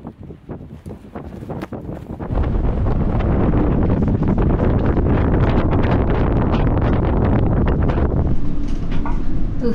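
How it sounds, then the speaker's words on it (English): Strong wind roars across the microphone while sailing a boat in shallow Florida Keys water, starting gusty and then becoming a loud, steady buffeting rush that fills the whole clip. "the wind then began spinning all around"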